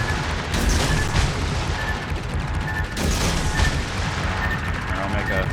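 Torpedoes explode in a naval warship video game, two heavy booms landing a few seconds apart over a dense, continuous roar of battle noise and engine drone.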